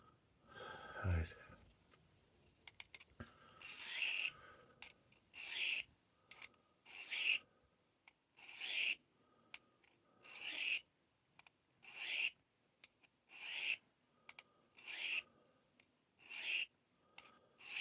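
A knife is sharpened freehand on Lansky stones lubricated with Gunny Juice, giving repeated rhythmic rasping strokes, close and moderately loud, each stroke a short gritty scrape with brief pauses between, and a few breaths or brief sounds early on.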